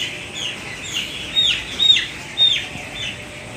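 Broiler chickens at a poultry farm, about fifteen days old, give high, thin peeping calls in a few short bursts, moderately close over a faint background hum.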